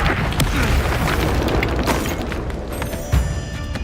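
A fiery Incendio spell blast in Hogwarts Legacy, a loud whooshing boom with crackling bursts over a dense roar, ending in a sharp impact thump.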